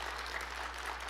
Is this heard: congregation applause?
yes